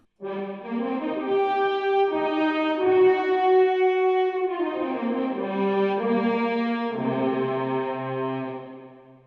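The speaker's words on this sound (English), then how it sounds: "I've soloed the distorted horns track. It's just the sound coming out of the amp." Sustained brassy horn chords come through a gritty, distorted amp, changing pitch a few times in long, loud held notes with no talking.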